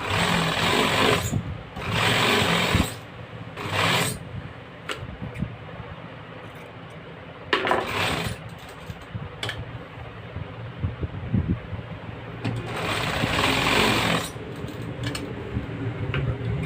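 A sewing machine stitches a shirt collar seam in short, loud bursts of rapid mechanical chatter. Quieter pauses with faint clicks and handling sounds fall between the bursts.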